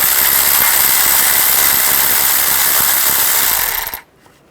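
Powered ratchet on an 8mm socket spinning out a speed sensor bolt on a 2010-2016 Buick LaCrosse, a loud, close, steady whirring buzz lasting about four seconds before cutting off abruptly into near silence.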